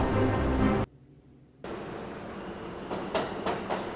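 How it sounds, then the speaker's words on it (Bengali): Low rumble of a train, a sudden quiet gap, then a steady rolling drone with rhythmic clacks as it approaches. "ভোরবেলা মাঝেরহাট স্টেশন। ট্রেন আসছে"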